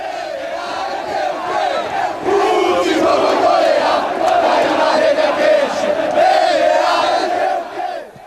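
Football supporters in a stadium crowd roar and chant in a sustained, loud wall of massed voices, rising a little after the first couple of seconds and holding steady before easing off at the very end.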